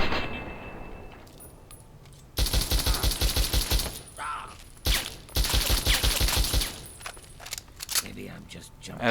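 Gunshots in the video game Fallout 3: after a quiet stretch with a voice talking, rapid loud bursts of automatic fire rattle out in two long volleys, followed by scattered clanks and further talk.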